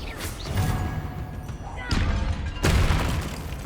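Confringo fire spell explosions boom in Hogwarts Legacy, several heavy thumping blasts with rumbling tails, the loudest two landing late in the sequence.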